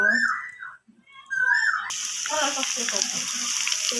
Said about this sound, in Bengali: তো আমি এখন বড়াগুলো আস্তে আস্তে করে ভেজে নিব